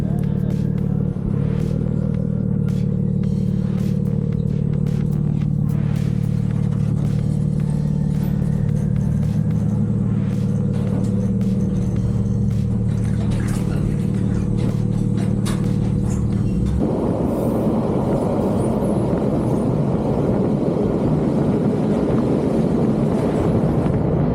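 A 2024 BMW M3 Competition drives onto the car shuttle train at Realp, its engine humming steadily with road rumble, then shifting to a broader rattling, rail-like roar partway through; clicks and knocks sit on top throughout.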